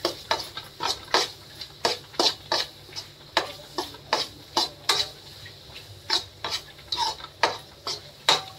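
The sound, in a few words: stirring gatte biryani masala in a pot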